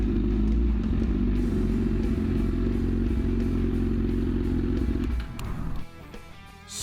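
A motorcycle at night rumbles steadily at close range, its engine droning loud and even for about five seconds before dropping away as it slows and stops, leaving lighter clatter.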